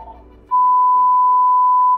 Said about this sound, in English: Somebody want to start ringing the phone.